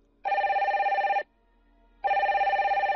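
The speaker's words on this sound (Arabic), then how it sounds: "رن هاتفها" A telephone ringing in two loud electronic bursts of about a second each with a short pause between, close and clear with no voices.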